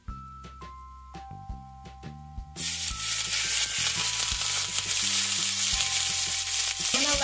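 Chilean sea bass drops into a small oiled pan over medium heat and bursts into a loud, steady sizzle that carries on to the end, with a low musical tone playing underneath from the start.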